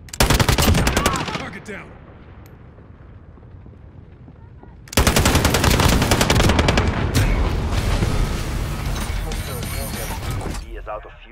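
A sentry gun blazing in Call of Duty: Modern Warfare, loud rapid bursts of automatic fire close up, a short burst, a pause with a brief radio voice, then a long sustained stream of gunfire.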